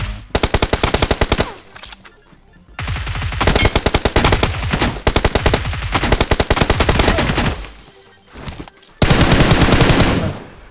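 Loud, close bursts of rapid automatic gunfire in the PUBG Mobile video game, firing in long sustained volleys separated by short pauses, with no talking.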